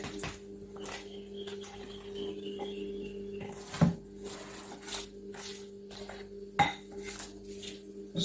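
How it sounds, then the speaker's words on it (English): Utensil scraping around the sides and bottom of a bowl of fruit cake batter, soft repeated scrapes with occasional light clinks against the bowl over a steady low hum, close and fairly quiet. "So I want to scrape the sides properly."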